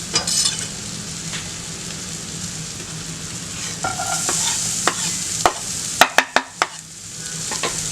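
Onions sautéing with reduced mushrooms in a pan, a steady sizzle with stirring scrapes, then a quick run of sharp utensil knocks against the pan near the end.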